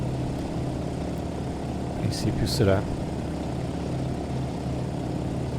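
A Fokker D.21, a World War II fixed-gear propeller fighter, drones with a steady, moderate engine hum in Microsoft Flight Simulator, running continuously under someone speaking.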